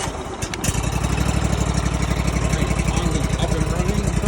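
Engine on a Vallee sawmill is started with choke: a brief cranking burst catches, then settles into a steady, close, rhythmic chugging run.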